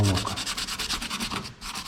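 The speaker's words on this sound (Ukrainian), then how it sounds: "Пам'ятаємо, що шліфуємо виключно вздовж волокон." Rhythmic hand sanding of a wooden trident hair clip along the grain, about a dozen even back-and-forth strokes, close and scratchy, with no speech.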